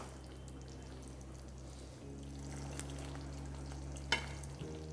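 Fried paneer cubes dropped into a simmering, reducing gravy for a vegetarian Bengali paneer dish, giving a soft sizzle and a stirring clatter with a sharp knock near the end, all quiet and close, with no talking.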